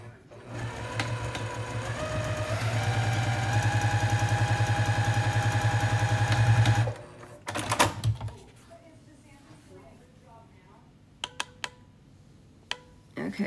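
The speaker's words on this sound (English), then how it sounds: "Come over to your sewing machine" A sewing machine stitches fabric and freezer paper in a steady, rising mechanical whir for several seconds, then stops. Clicks and handling noises follow, with people talking.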